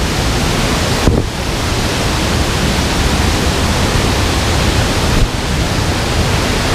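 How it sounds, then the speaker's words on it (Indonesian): A waterfall's water rushes in a broad, continuous roar that fills the whole clip at close range. Two brief bumps break the steady wash, and no voices can be heard. "Ini dia alirannya air terjun nih juga"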